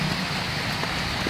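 Steady rain falling on a foggy hillside at the edge of a ravine, producing a loud, continuous, even hiss with no pauses.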